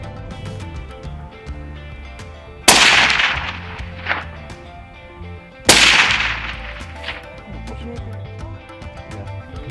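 Two sharp, loud rifle shots at an outdoor range during a scope zero check, about three seconds apart, each with a decaying echo over quiet background.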